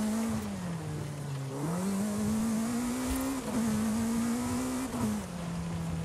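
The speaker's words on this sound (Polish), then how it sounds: "ten samochód ma takie przyspieszenie," A Formula 1 car in Forza Horizon 5 accelerates hard with a loud, sustained engine whine, its pitch climbing, dipping at gear shifts and climbing again throughout.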